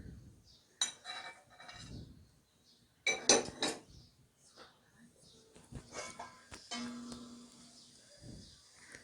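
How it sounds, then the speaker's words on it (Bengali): Metal utensils clink and scrape against a pan as fish pieces are turned in curry sauce, with intermittent clatter and soft stirring beneath a person speaking. "মাছগুলো আমরা এখন কষাচ্ছি।"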